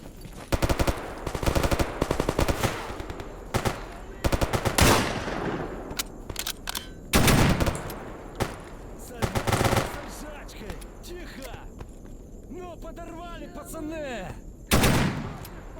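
Automatic gunfire in the game Escape From Pripyat, set at night in the Garbage area: repeated loud bursts and single shots, some near and some farther off, with quieter pauses between them.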